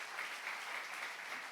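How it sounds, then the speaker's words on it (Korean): A church congregation at a Korean sermon applauds, a soft, even wash of many hands clapping together, steady and somewhat distant. "박수 영광을 드리시기 바랍니다"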